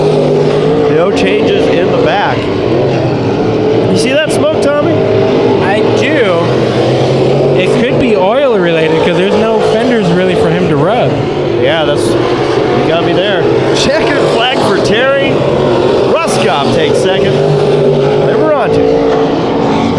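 Race cars roar around a dirt track, engine notes rising and falling as they pass close by, loud and continuous beneath an excited commentator's voice.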